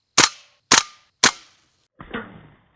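Gas-powered MP7 airsoft gun fires three sharp, loud shots about half a second apart, then a softer, duller pop follows after a short pause.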